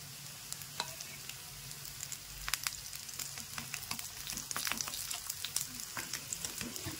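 Vegetable food frying in oil in a pan, with a soft, steady sizzle and crackle that runs throughout at low volume, with no talking.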